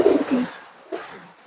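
Golden pigeons give a couple of soft, close coos, the first a low burbling call and another brief one shortly after, with quiet surroundings between.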